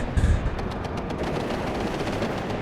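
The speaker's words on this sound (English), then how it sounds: "the firefights are starting" Rapid bursts of gunfire in a firefight in the video game WARNO, a quick run of sharp shots after an opening heavy boom, fairly loud with no talking.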